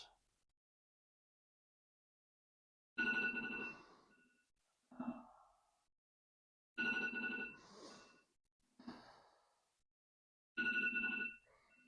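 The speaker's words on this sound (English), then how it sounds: "That is the balance timer I set." A phone timer alarm set for balance poses during a yoga class rings in repeated short bursts roughly every two seconds after an initial silence, fairly quiet, with no talking.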